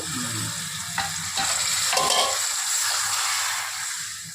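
Water poured into a pot of mutton curry cooking with drumsticks, raising a steady close hiss and sizzle with some stirring and a few faint clinks against the pot, and no talking.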